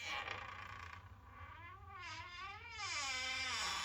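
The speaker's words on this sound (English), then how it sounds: "What if I try to open the door here?" A door forced open with difficulty gives a long, wavering creak that rises and falls over several seconds, close and fairly faint, with no talk.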